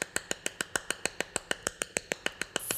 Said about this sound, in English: clapping sound